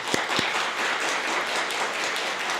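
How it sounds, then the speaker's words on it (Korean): Applause from a church children's-ministry congregation honouring a departing staff member: a dense, steady patter of many hands clapping throughout, with no talk over it. "박수로 격려하겠습니다."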